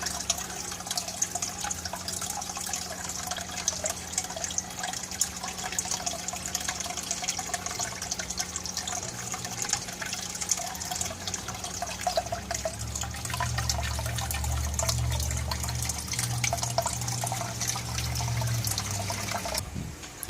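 An aquarium filtration system on a large guppy tank, using two different filter types, keeps up a steady gurgle and trickle of moving water. It stays close and even throughout, with a deeper rush of flow building near the end.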